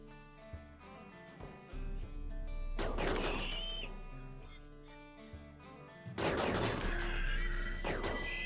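Rapid bursts of gunfire from the colony-sim video game RimWorld, two loud fusillades of rattling machine-gun fire with quieter single shots between, no voices.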